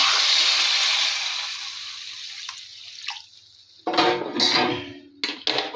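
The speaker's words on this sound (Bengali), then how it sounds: "এবারে গরম জল দিয়ে দিলাম" Hot water poured into a pan of tengra fish curry with cauliflower and potato, a loud hiss and sizzle that fades over a few seconds, followed by splashing and a couple of clanks from the pan, close up.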